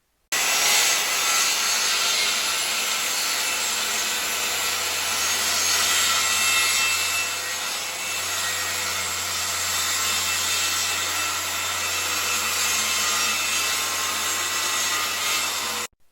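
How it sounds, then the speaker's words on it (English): Circular saw cutting diagonally across a sheet of hardwood plywood, producing a loud, continuous grinding whine with a low steady hum beneath, sustained for about fifteen seconds without pause and without any voices. "we're going to replicate the process again and cut this hardwood plywood into 4 pieces diagonally"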